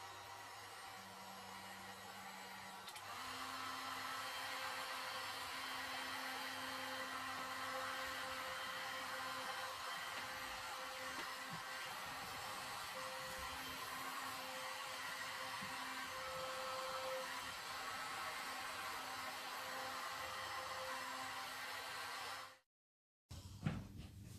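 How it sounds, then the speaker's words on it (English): A heat gun blows over resin poured on a glass outdoor table, producing a steady, loud whirring roar that holds for over twenty seconds and then cuts off abruptly. "grab my heat gun and just push this over that way"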